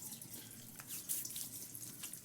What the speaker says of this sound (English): now I'll go in with some cold water on your face